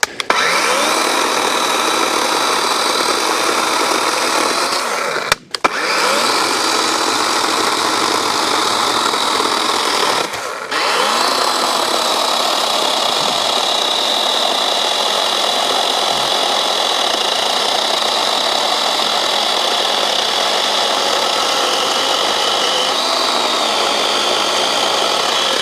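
A Dewalt chainsaw runs steadily and loudly while cutting a fallen tree log lying across a trail, with two brief dips as the saw pinches in the cut.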